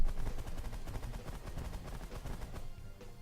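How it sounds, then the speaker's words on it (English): A minigun fires rapidly at an enemy ship in the space strategy game The Last Federation. The burst is a dense, continuous rattle of shots, fairly quiet and heard alone. "my minigun is the weapon of choice here"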